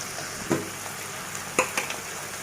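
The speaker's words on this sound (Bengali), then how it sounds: "এইভাবে আমি 2 মিনিটের মতো মশলাটা কষিয়ে নিব।" A spice paste of ground onion, turmeric, salt and coriander powder frying in a pan for an egg and potato curry, a close steady sizzle broken by a few light scraping clinks of stirring.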